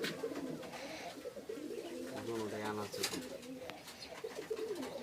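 Pet pigeons handed over as a pair at a home give a short run of soft, low cooing in the middle, close by, while someone talks over it.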